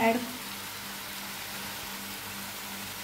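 Masala paste (vatan) for a spinach lasuni dish roasting in a pan, giving a steady, low, even sizzle throughout with a brief louder clatter at the very start.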